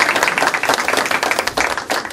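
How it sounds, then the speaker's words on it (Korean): A crowd applauding at a Korean political committee meeting, dense, rapid clapping from many hands, close and steady for the whole stretch, with a faint voice underneath. "한번 큰 박수 부탁드리겠습니다"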